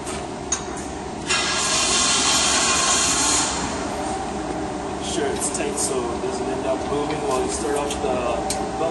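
A belt sander runs with a steady, loud whirring drone that continues throughout, a brief higher-pitched grind near the start, and voices talking over it.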